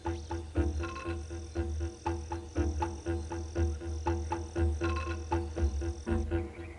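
A marine toad calls in a rapid, rhythmic series of croaks, loud and close, with layered trilling and other amphibian calls pulsing in the background and no voices.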